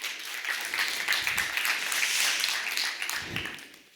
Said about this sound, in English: So please give a warm applause to Ramesh.